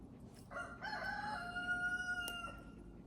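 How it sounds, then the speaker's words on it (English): A rooster crows once in a long, drawn-out call, somewhat distant and moderately loud, over a quiet background. "you can hear my rooster"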